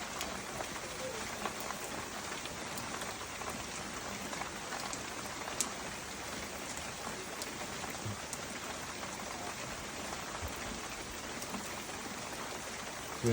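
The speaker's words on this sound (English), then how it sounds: "It's just pouring down rain." Heavy rain pouring down outdoors during a rainstorm, a dense, steady hiss of countless drops hitting surfaces, constant and fairly close with no voices.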